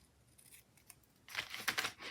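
Scissors snip through the white edge of a sheet of paper during planner decorating. The crisp cutting sounds are close and fairly loud after a quiet start, in a quick run of several snips.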